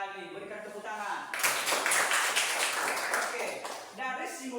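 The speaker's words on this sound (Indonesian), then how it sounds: "Berikan tepuk tangan." Children clapping in a classroom, a burst of quick, energetic handclaps that starts after a teacher's voice, swells for a few seconds, then fades as speech returns.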